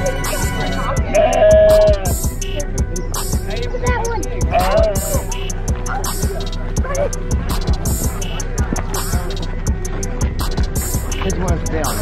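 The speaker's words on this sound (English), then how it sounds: "Dude, cute sheep." Sheep bleat a few times amid a busy, rhythmic game soundtrack, with people chatting over it.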